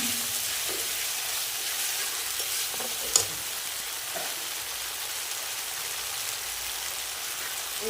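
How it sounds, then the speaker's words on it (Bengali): A splash of water goes into spiced masala frying for an egg and cauliflower curry. It brings a steady close hiss of sizzling under light stirring, with one sharp clink near the middle. "এই সামান্য একটু পরিমাণে জল দিয়ে দেবো।"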